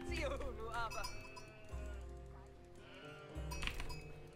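Sheep bleat in an Age of Empires match, short nasal cries in the first second and again near the end, under game music and effects with players talking.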